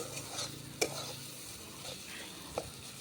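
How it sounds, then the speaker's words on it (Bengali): Potatoes sautéing in a pan, a steady background sizzle with a spoon stirring and two sharp clinks against the metal, close and fairly quiet, no talking. "আলুটাকে কষিয়ে নেবো আগে পরে পটলটা দেবো"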